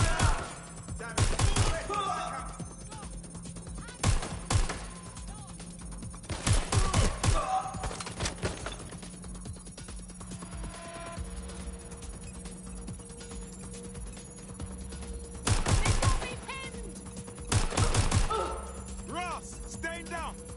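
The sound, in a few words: gunfire in the video game Watch Dogs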